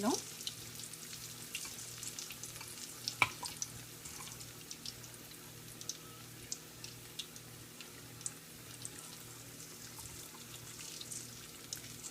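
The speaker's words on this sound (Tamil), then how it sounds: "இப்படி வதக்கிட்டே இருந்திங்கன்னா ஒரே இடத்துல விழாமல் எல்லா இடத்துலையும் உதறி" Boondi for ladoo fries in hot oil while being stirred, giving a soft, steady sizzle with scattered light clicks and taps from the stirring spoon throughout.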